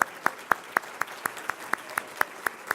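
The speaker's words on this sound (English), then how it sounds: "let's give them a round of applause" Audience at a law defense fund's formal dinner applauding law students, heard as crisp, evenly spaced claps in a steady rhythm about four per second, fairly faint with a quiet room behind them.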